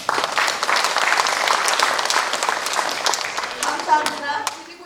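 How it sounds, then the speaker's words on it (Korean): A big round of applause fills a community town-hall meeting with residents, dense and sustained clapping from a crowd that stays loud throughout and thins slightly near the end, with a voice briefly rising over it. "큰 박수 좀 보내주십시오."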